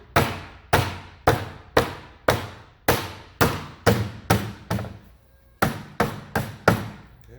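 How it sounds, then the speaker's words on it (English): A rubber-faced mallet pounds a rail into its channel on a walking belt machine, about fourteen loud, close, evenly spaced thuds with ringing decay, a short pause near the middle before the blows resume. "Use a rubber face mallet to pound the rail in if you need to."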